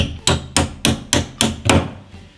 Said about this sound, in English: we're going to have to use the hammer to knock it all the way down.